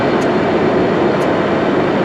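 A railhead treatment train pulls away on a London railway, giving a loud, steady broadband rumble of engine and wheels that holds constant throughout, with no talking.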